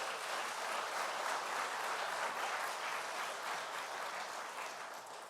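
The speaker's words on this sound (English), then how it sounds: "I would ask that you acknowledge their efforts with your applause" An audience at a candidate forum for town mayor and council elections applauds steadily for several seconds, a dense, even patter of clapping heard from a distance that tapers slightly at the end.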